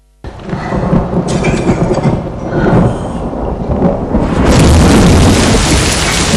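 Heavy rain pours during a thunderstorm, a loud dense roar that rises suddenly near the end, with low rumbling like thunder underneath and no voices.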